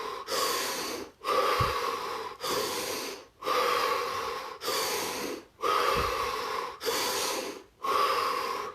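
Deep, slow breathing during a guided relaxation exercise: eight long, loud inhale-exhale cycles in a steady rhythm, each breath close and airy, with short pauses between and no talking.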